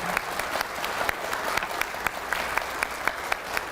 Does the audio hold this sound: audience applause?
yes